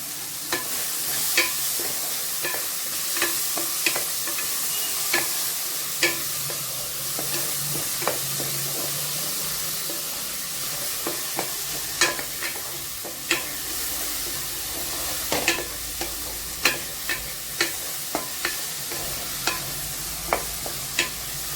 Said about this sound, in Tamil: இப்போ கொஞ்சம் உப்பு சேர்த்தோம்னா ஈஸியாக வந்து தக்காளி வதங்கிடும்